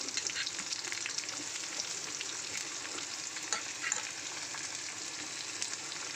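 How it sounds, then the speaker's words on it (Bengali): Chopped onion frying in a pan for a taro greens dish, a steady close sizzle with faint crackles and occasional stirring scrapes throughout, no voices. "এখানে দিয়ে দেবো একটু বেশি পরিমাণে পেঁয়াজ কুচানো।"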